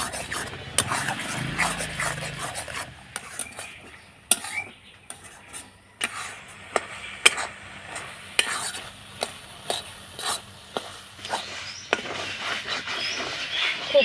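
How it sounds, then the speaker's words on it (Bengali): Carrot paste cooking down with spices in a pan, a spoon scraping and tapping the pan in an irregular rhythm over a soft, steady sizzle, close and fairly quiet. "এবার সব কিছু মশলা দিয়ে ভালো করে গাজরের পেস্টটাকে আমি কষিয়ে নেব"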